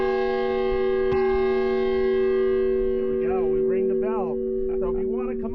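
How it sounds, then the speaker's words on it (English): A beautiful bell is struck once, and its loud, sustained ringing tone holds steady throughout while a person starts talking over the fading hum. "So we're going to ring this beautiful bell."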